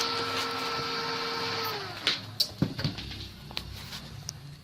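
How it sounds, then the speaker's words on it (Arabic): A repaired Total electronic welding machine runs with a steady electrical hum and whine. Near the midpoint the tone drops, and a few sharp clicks and knocks follow over a quieter hum. "يا الله هسه اشتغلت الماكينة بالكامل."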